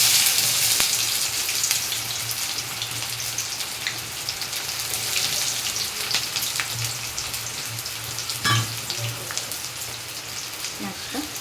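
Onions sizzling in hot oil in a pan over a high gas flame, a steady crackling hiss running throughout with occasional louder pops and clinks.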